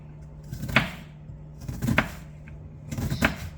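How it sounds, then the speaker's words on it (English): Diced onion being cut small on a board for meatballs and gravy, three separate bursts of knife strokes spaced about a second apart, close and moderately loud, with no talk. "Cut it small. Some diced onion."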